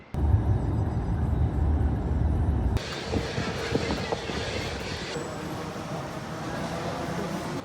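Cabin engine noise from an airliner in flight forms a steady, dense rumbling drone heard from inside. The tone changes abruptly partway through as the recording shifts to a different scene.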